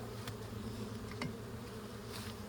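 Honey bees buzz softly and continuously around an open backyard hive during an inspection, a faint, even drone with a few individual insects passing closer.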